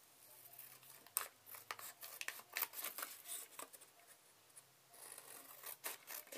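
Paper being cut with scissors for a mini chipboard album: quiet, close snips and rustles that come in irregular bursts, with a short pause before the cutting resumes.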